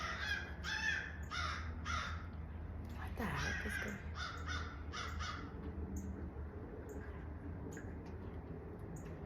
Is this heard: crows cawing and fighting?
yes